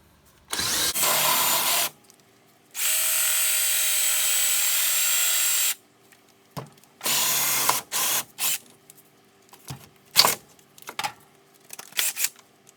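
A drill press bores into aquarium glass in several bursts: a short run, then a long steady whine of about three seconds, followed by a string of brief, uneven touches of the bit. No one speaks.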